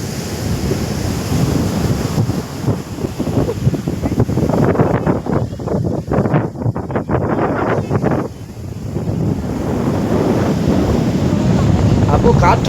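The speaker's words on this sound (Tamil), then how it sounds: "அந்த காற்றுடைய அடிக்கிற சத்தம் ஒரு மனிதனை பயப்படுத்திடும்" Strong wind roars over crashing sea waves during a storm in a loud, continuous rush, buffeting the microphone with gusts that swell and ease.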